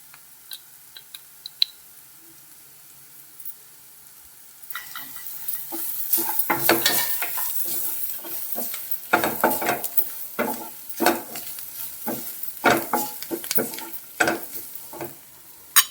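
Onions are stirred and fried in hot oil for Rayalaseema guntha ponganalu. A quiet pause gives way to loud, continuous sizzling, with repeated scraping and clinking of a spoon against the pan.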